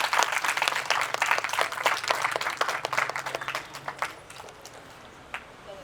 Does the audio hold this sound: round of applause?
yes